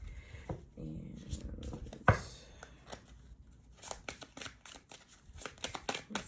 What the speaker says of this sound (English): let's just do a quick little shuffle